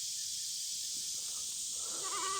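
A goat's wavering bleat rises near the end over a steady hiss of background noise, fairly faint and a little distant.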